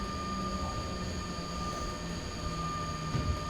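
An E186 electric locomotive in SimRail brakes with a steady mechanical rumble and faint tonal whine from the cab, a constant moderate drone with a small bump near the end.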